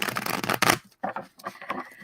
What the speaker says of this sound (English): I'm going to give these cards a nice and solid shuffle here.